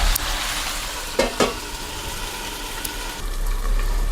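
Mixed vegetables sauté in a pan under a close, steady sizzle. A few sharp scrapes and knocks of a spatula against the metal break in near the start and again briefly later. Nobody speaks.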